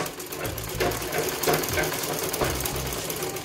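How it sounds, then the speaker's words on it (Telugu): A sewing machine stitches a blouse sleeve in a steady, continuous whirring run with a faint rhythmic mechanical knock, loud and close, with no talking. "చెయ్యి ఇలా మధ్య భాగం నుంచి ఇలా చివరి వరకు కుట్టుకోవాలి."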